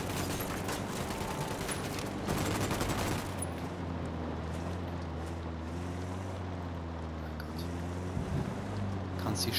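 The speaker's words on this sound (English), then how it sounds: "I'm opening fire." Gunfire in the game Ghost Recon Wildlands, a rapid burst of shots at the start followed by a droning vehicle engine hum with a few faint distant pops, moderately loud with no voices.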